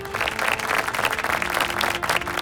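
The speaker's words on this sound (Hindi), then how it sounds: "जोरदार तालियों से इनका स्वागत कीजिए।" Dense, loud audience applause welcoming mother-and-son participants at a national family Bible quiz show, continuous clapping throughout the short stretch.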